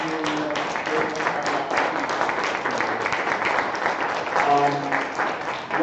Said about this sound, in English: Let's give a round of applause for our professionals and for the students and the faculty.